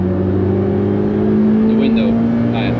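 A Daihatsu Copen engine holds a steady droning note at full throttle on the Nürburgring, heard from inside the cabin, with brief faint voices over it.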